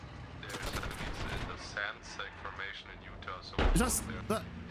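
Scattered gunshots and short bursts of fire in a military simulation game, mostly faint and mixed under close talking, with one louder burst near the end.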